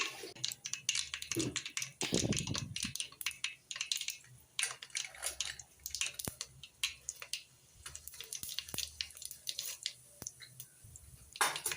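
Mustard seeds, urad dal, cumin and fenugreek crackle and spit in hot oil for a fish curry, a dense run of sharp pops and ticks close by, with no talking.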